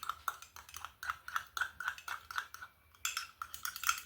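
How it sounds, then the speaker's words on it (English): A utensil stirs egg into mug cake batter, clinking and scraping against the mug in a quick, steady rhythm of close, light taps. "stir that, break that egg up and stir it in real good"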